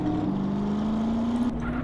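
A Dodge Tomahawk motorcycle engine in GTA San Andreas drones at top speed with a steady high whine, continuous and loud with a slight pitch rise, and no talk over it.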